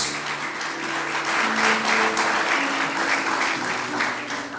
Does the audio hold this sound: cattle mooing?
no